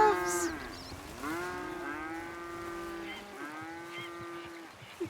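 Cows and calves in a medieval role-playing video game give several long, drawn-out moos one after another, close and fairly loud, with a few brief overlapping calls and no talk over them.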